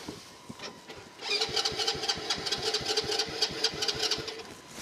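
Dirt bike engine cranking briefly, then catching and running with a rapid, close popping idle that stays steady and loud, no talk over it.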